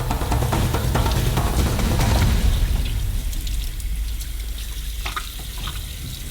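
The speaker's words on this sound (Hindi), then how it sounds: "हम सिर को सिंक में भेजते हैं और बलगम से अच्छी तरह से धोते हैं ताकि ये पूरी तरह से साफ हो जाए।" A sturgeon head is washed under running tap water in a sink, a loud continuous splashing rush that sounds fuller at first and thins out partway through, with a few drips and light knocks near the end.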